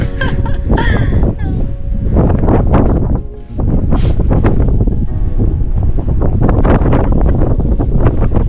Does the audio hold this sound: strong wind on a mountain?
yes